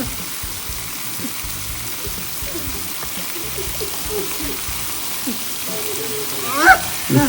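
Artificial rain falls steadily on a film set during a behind-the-scenes shoot, a soft continuous hiss of water with a few brief louder sounds near the end.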